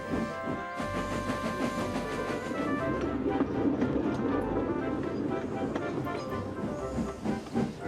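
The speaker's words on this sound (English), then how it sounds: "They chuffed gently into the station." A steam engine chuffs steadily and rhythmically beneath sustained music, a soft mechanical pulse that continues throughout.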